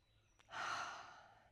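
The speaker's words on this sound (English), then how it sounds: "and take a breath." A single long exhale during a yoga class, a soft sigh-like breath out that swells after a brief inhale and fades slowly, close and quiet with no talking.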